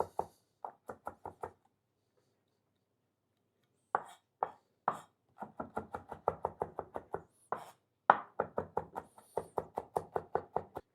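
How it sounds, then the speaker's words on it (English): A knife roughly chops a head of garlic on a cutting board, sounding as close, sharp, rapid taps in quick bursts with brief pauses between runs, and no talking. "that's our head of garlic that we've just taken and roughly chopped up into some pieces there"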